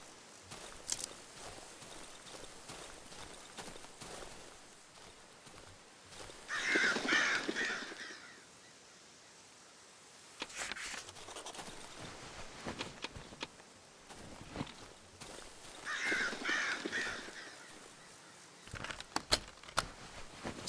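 Crows caw in two loud bursts within the dark forest of the Darkwood horror game, with birds flapping off among scattered footstep-like patters and ambient rustle, no talking.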